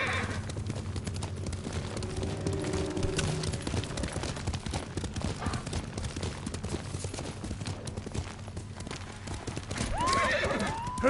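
Horse hooves gallop in a steady clip-clop rhythm across Ghost of Tsushima, with whinnies breaking in near the end, all set against a layer of game music and background ambience.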